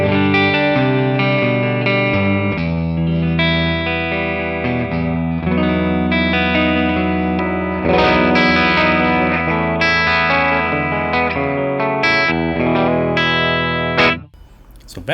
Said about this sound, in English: the main clean tone of the amp capture is like this